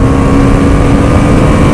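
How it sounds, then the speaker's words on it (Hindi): Steady, loud engine drone from a BMW superbike while riding at speed, with a constant low rumble and wind roar, a smooth unbroken tone and no talk. "गाइस मेरे को बिलीव नहीं हो रहा कि मैं यार BMW की बाइक पे राइड कर रहा हूँ।"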